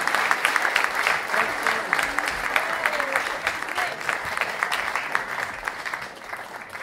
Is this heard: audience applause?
yes